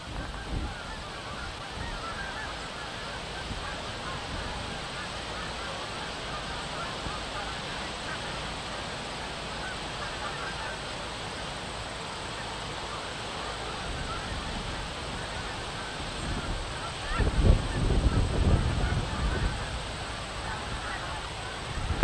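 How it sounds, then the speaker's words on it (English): A flock of geese honking at Lake Alice, a steady outdoor chorus of overlapping calls at middle distance that swells louder and busier near the end, with water and ambient noise underneath. "let you listen for a couple of seconds to these beautiful geese"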